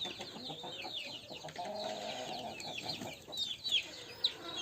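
Backyard hens and chicks cluck and squawk in a lively, overlapping chorus close by, growing louder with a few sharp calls near the end.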